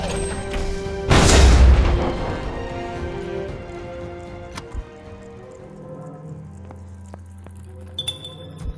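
A Copperhead machine is destroyed in the action RPG City of Springs with a single loud, booming explosion that bursts out early and then trails off into a long rumbling, crackling decay with scattered small clinks and debris sounds.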